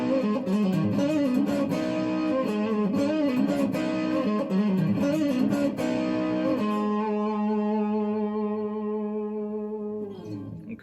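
An electric guitar, a Telecaster played on the neck pickup through distortion, rings out with thick sustained chords and then a held, fading note, played alone and fairly loud.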